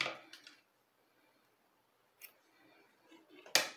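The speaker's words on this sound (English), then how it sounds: "Now I'm gonna cut another piece here." Scissors cut a piece of crochet yarn for an amigurumi keychain in a few sharp, close snips with quiet pauses between them, ending in a louder final cut.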